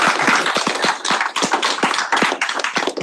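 Applause for John at a student senate meeting: a few nearby pairs of hands clapping briskly in a close, uneven rhythm for about three seconds, each clap distinct rather than merged into a crowd roar.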